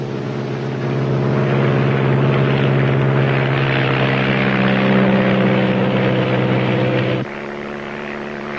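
Small propeller planes drone over rainforest, a loud steady engine and airscrew hum heard from inside or close by, dropping to a lower tone near the end.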